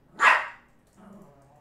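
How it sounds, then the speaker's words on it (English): A dog named Whiskey gives a single sharp, loud bark up close, followed by a quieter low rumble or growl. "Whiskey, what you barking at?"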